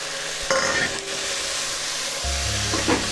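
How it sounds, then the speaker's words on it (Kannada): Mixed vegetables for pulao stir-frying in a pan, giving a loud continuous sizzle broken by scraping stirs and a couple of heavier clatters, close up with no voices. "ಸ್ವಲ್ಪ ಚೆನ್ನಾಗಿ ಫ್ರೈ ಮಾಡ್ಕೊಳ್ಳೋಣ ತರಕಾರಿನೆಲ್ಲ"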